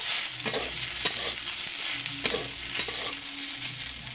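Potatoes sizzling and frying in a pan, a steady crackling hiss with occasional soft stirring scrapes, no voices.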